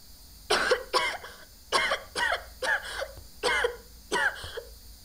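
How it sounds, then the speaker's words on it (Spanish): A woman coughs on request, with about seven or eight sharp, close coughs in quick pairs separated by short pauses, against a quiet room. "Y ahora tose, por favor."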